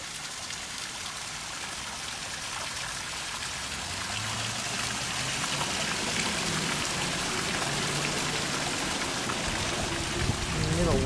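A small waterfall feeding a koi pond, splashing and trickling in a steady broad wash that grows slightly louder partway through, with no talk over it.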